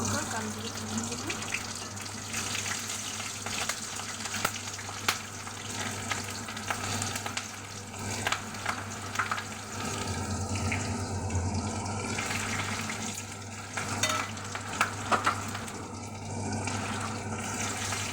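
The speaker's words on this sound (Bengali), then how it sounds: "কাঁচা লঙ্কা কালো জিরে ফোড়ন দিলাম।" Green chillies and nigella seeds hit hot oil in a pan, producing a loud continuous sizzle with spattering crackles close by, and a brief run of tap water partway through.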